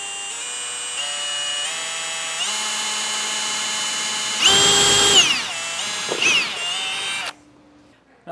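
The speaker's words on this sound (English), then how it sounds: "I'm going to drill out the hole for our light" A power drill with an 1/8 inch bit whines loudly at stepped speeds, drilling a hole in a 2020 Honda for a brake controller light, with a rougher burst midway, then stops abruptly.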